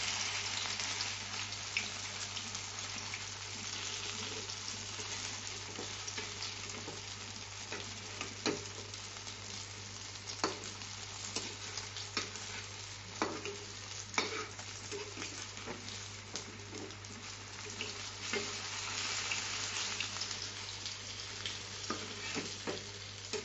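Gokul pithe dumplings fry in hot oil with a steady, even sizzle and bubbling that runs throughout, punctuated by occasional small pops and crackles; no voices.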